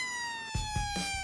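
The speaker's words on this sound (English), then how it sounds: "turn the flashing lights and siren on" A police car siren wails steadily and loudly in a children's cartoon, its pitch sliding slightly, with a few low thumps underneath.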